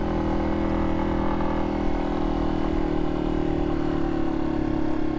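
A Yamaha XT250 motorcycle rides up a driveway, its engine droning loudly and steadily at close range, holding an even pitch throughout with no talking.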